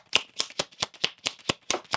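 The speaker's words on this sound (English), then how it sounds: "6 Kipper cards here for Capricorn. One more shuffle." Kipper cards being shuffled by hand in a tarot-style reading, nine crisp, evenly spaced riffling slaps in a quick steady rhythm, close and clear with no talking over them.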